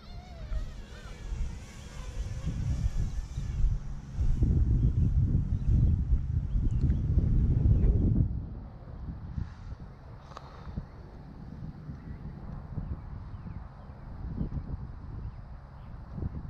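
Strong, gusty wind roars against the microphone outdoors while a Parrot mini drone fitted with Ryze Tello propellers flies; the blustery rush is loudest early on, then eases into a steadier, lower buffeting.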